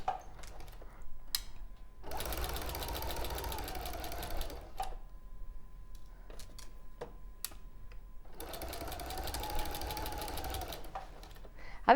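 A domestic sewing machine stitches a garment in two steady runs of rapid, even whirring of about two and a half seconds each, separated by quieter ticks and handling clicks, with light talk nearby.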